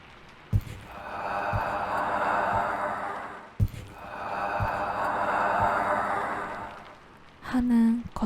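A voice imitates rough, drawn-out breathing like snoring, two long rasping breaths with brief pauses, followed by a short vocal sound at the end.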